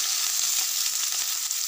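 Chopped onion and green chilli frying in hot oil for a samosa filling, a steady bright hiss and crackle that stays even and close throughout, with no voices.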